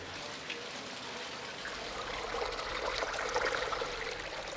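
A small creek winding around a front-yard putting green gives a steady, soft rush and trickle of running water, constant and moderately near, with no voices.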